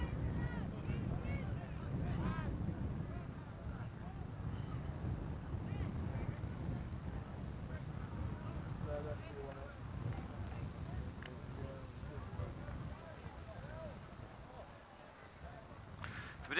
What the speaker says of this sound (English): It wasn't this windy though, certainly not. Tent's getting a little bit buffeted here